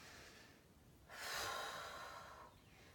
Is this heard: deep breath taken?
yes